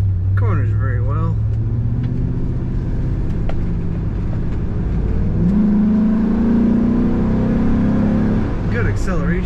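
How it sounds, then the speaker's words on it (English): A 2005 Chevrolet SSR pickup truck accelerates on the road, its engine droning loud and steady from inside the cab and rising in pitch midway, with someone talking over it. "Good acceleration in this truck."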